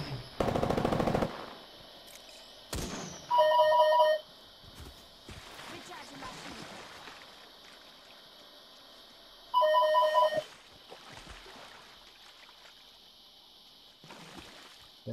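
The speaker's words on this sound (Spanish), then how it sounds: "Me están llamando por teléfono." In-game telephone ringing during an Apex Legends session, two short electronic ring bursts several seconds apart, heard amid bursts of gunfire and other game sounds, with a voice talking in the background.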